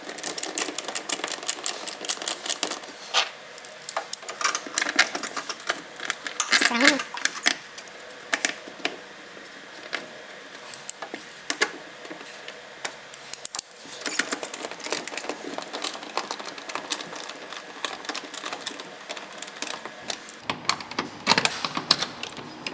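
Metal screws are tightened into the plastic engine air filter housing of a 2014-2018 GMC Sierra or Chevy Silverado, producing rapid ratcheting clicks in long dense runs, close and steady, with a voice talking over them.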